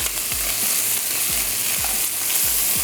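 Masala spices for chapli kabab sizzle steadily as they fry in a hot pan, a dense, even crackle throughout with faint low knocks from stirring and no voices.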